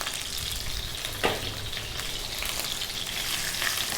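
A cup of sliced red onion frying in a pan over fairly low heat gives a steady, close sizzle, broken by one brief clatter early on.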